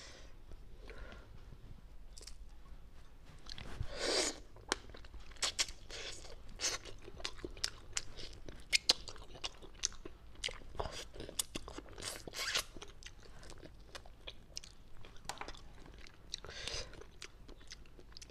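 Close, quiet chewing and biting on a reheated rabbit head, with irregular crunches and wet mouth sounds in an uneven rhythm.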